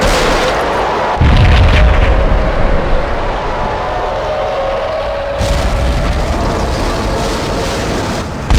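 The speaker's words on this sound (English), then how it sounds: "exploded inside the closest slum building" Heavy explosion inside a slum building in the Max Payne video game, a sudden deep boom followed by a long rumbling tail, then a second sharp burst of noise later on.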